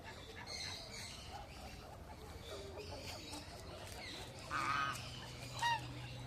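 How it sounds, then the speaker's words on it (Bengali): Faint honks and squawks from geese, a couple of louder calls standing out near the end over a low background hum. "এক প্রজাতির রাজহাঁস।"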